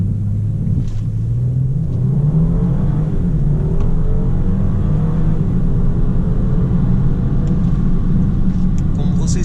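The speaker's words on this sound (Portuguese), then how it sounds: "Vou pisar no freio, pisar no acelerador e fazer uma largada bem mais forte." A Mercedes-Benz GLE 400 Coupé makes a hard launch from a standstill, its engine rumbling loud and steady as the pitch climbs through the gears, with low road and wind roar throughout.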